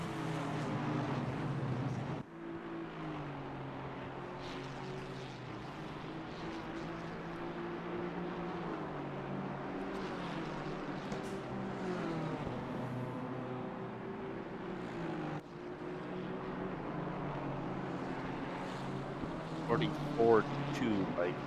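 BMW race cars dueling in a racing sim game, engine drones rising and shifting in pitch with gear changes, fairly close and steady under continuous commentary talk.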